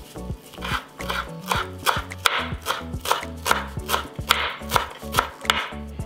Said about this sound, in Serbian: i onda ću iseckati malo sveže mirođije i malo svežeg peršuna